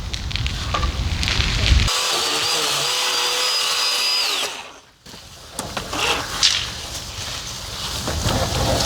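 A petrol chainsaw cuts branches, a sharp high whine for a few seconds before stopping, with rustling, knocking and handling noises from the work before and after.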